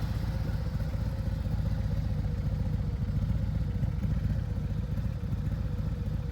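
A Harley-Davidson Road Glide idles close by, its Dr Jekyll et Mr Hyde exhaust, with pipes on both sides, giving a steady, deep, throbbing rumble with no revving.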